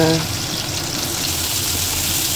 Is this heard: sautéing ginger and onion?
yes